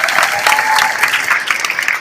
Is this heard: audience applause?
yes